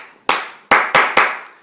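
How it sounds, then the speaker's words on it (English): Hands clapping a short rhythm, four sharp, close claps, a single one followed after a pause by three quicker ones, each ringing briefly in the room, with no voices. "So the teachers clap. They'll clap a rhythm."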